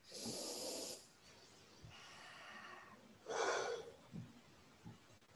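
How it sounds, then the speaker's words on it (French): Slow, deep breathing during a guided relaxation session, with a few long, airy inhales and exhales and soft pauses between them. No one speaks, and the sound is close and quiet. "Bonne respiration."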